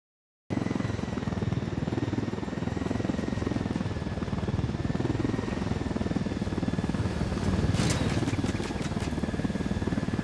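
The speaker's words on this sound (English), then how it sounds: "I've got a chopper this time." A helicopter in the video game Ghost Recon Wildlands drones steadily and close, its rotor and engine a continuous loud thrum that barely changes for the whole stretch.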